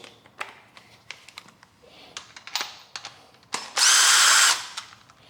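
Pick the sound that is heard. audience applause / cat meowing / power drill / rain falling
power drill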